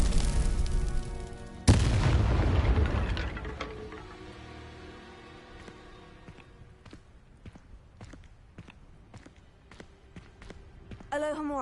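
A Confringo spell fired in Hogwarts Legacy bursts in a loud explosive boom, followed by fading rumble and scattered sharp spell impacts and clicks, with a voice shouting spell names around it.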